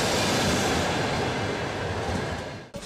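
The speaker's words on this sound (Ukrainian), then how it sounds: "На третю колію за кілька хвилин прибуде потяг «Маріуполь-Львів»." The Mariupol–Lviv passenger train pulls into a railway station platform with a loud, steady rumbling roar of wheels and carriages that cuts off abruptly near the end.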